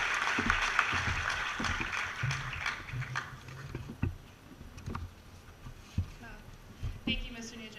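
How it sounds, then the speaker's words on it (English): Audience at a high school graduation ceremony applauding, a broad wash of clapping that gradually thins into scattered claps, with a voice speaking over it. "Please give a round of applause to Christina Martinez."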